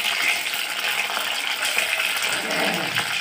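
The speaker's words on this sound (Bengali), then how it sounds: "পকোড়া ভাজা হচ্ছে, চিকেন পকোড়া।" Chicken pakora fry in hot oil with a steady, dense sizzle and bubbling crackle that holds evenly throughout.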